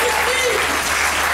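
An audience claps at a live music show, a dense, steady wash of applause filling the whole moment without a break.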